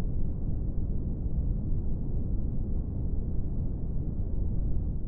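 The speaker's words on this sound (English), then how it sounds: "Brown noise sounds lower, like a soothing grumble." Brown noise, a continuous low, muffled rumble like a soothing grumble, steady and fairly loud throughout with no talking.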